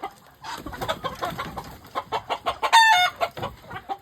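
Chickens cluck repeatedly in short, choppy bursts close by, with a brief higher squawk midway; several birds seem to overlap.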